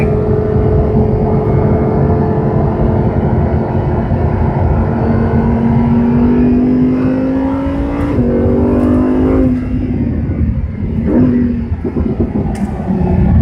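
A race car engine at Monticello drones loud and close at steady high revs, its pitch climbing through a long pull before easing off and shifting down, with wind and road roar beneath and no voices.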